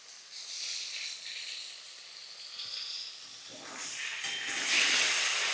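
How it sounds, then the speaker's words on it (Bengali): Potatoes dropped into hot oil for a Bengali rithe fish curry, giving a steady broadband hiss that swells louder toward the end as the frying picks up. "আমি তেলের মধ্যে এই আলুগুলোকে দিয়ে দেবো"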